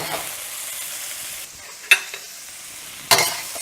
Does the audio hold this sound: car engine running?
no